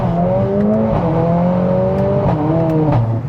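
A 500 bhp Mercedes-AMG A45S under way, its engine note droning loud and close with pitch rising and dipping as the revs change.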